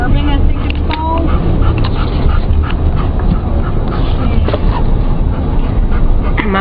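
Dogs whimper and yip inside a moving car on a suburban street, their thin whines coming in short bursts over steady road rumble while people talk.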